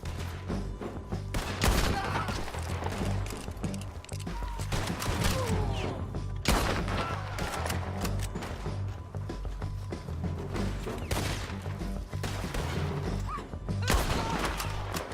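Heavy gunfire in a shootout in the video game Red Dead Redemption 2, a dense continuous fusillade of overlapping shots and sharp cracks, loud and unbroken, with faint shouted voices beneath.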